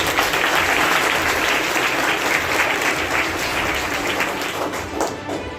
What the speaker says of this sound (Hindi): दादाजी के लिए भी जोरदार तालियां बजाएं